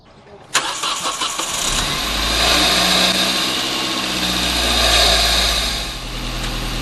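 A Hyundai Elantra engine cranking and starting after the battery is reconnected following a thermostat replacement, a sharp catch followed by a loud, steady idle rumble that holds close by.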